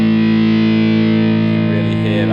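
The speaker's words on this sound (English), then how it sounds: "can really hear that squashed, fuzzy overtones, like a blown out kind of amp sort of thing." Electric guitar through a Bleak District Terra Overdrive pedal set for full bass, a sustained fuzzy, squashed distortion like a blown-out amp, ringing steadily at loud level with no talking.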